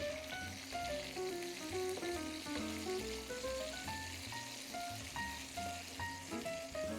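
Chicken pieces, skin browned and fat rendering out, fry in a pan with a steady, close crackling sizzle that runs throughout, while soft background music plays beneath it.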